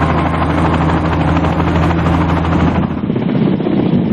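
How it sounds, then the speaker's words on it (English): A Kamov Ka-50 Black Shark attack helicopter drones steadily with a loud, continuous rotor and engine roar, holding a strong low hum throughout with a slight dip in intensity near the end. "today's Black Shark is one of the world's most sophisticated and versatile helicopters."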